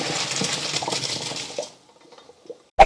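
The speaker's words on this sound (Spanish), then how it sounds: "La voy a escurrir y ahora te lo explico." Cooked pasta is drained of its water: a rushing pour of water lasts under two seconds, then fades to faint drips, followed by a single sharp metallic clink of the pot at the end.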